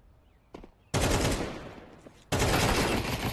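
Automatic gunfire in Counter-Strike 2 bursts out loudly in two long sustained sprays after a brief earlier pop, heard close and alone without talk.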